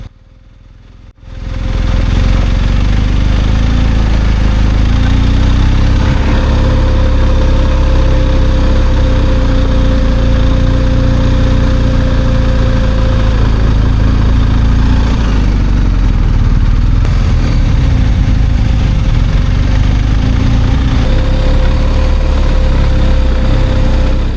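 A BMW R1250 GSA motorcycle engine starts up and runs loudly at a steady, rough idle close by on a slippery, muddy mountain slope, droning continuously with slight changes in pitch.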